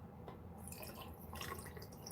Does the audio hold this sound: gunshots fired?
no